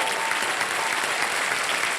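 A studio audience on the KBC game show bursts into dense, steady applause, the clapping filling the room evenly and loudly from start to end.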